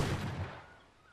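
A shotgun fires once in ARK Ascended: a single loud, close blast that rolls off into a fading tail.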